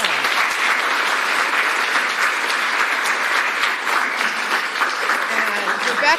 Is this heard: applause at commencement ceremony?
yes